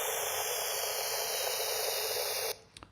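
Shaken soda fizzing out as it is opened, turned into a filtered, evolving noise texture: a loud, steady hiss with a slowly sweeping filter that cuts off sharply near the end, leaving faint clicks.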